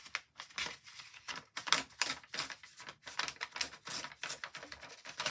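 Sheet music paper ripped by hand, a series of short crackling tears and crinkles in uneven bursts, close and fairly quiet, with no talking.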